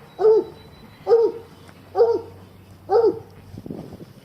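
An old dog outdoors on a warm spring day gives four evenly spaced barks about a second apart, moderately close and clear, with light background noise after.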